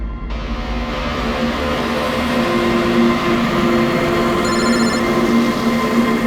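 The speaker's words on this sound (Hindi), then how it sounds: "कब से लैंडलाइन पे फोन कर रहा हूं सर, फोन ही नहीं उठा रहे।" A landline telephone in a CID crime series episode rings on unanswered, a steady electronic trill droning loudly and continuously alongside a low background hum.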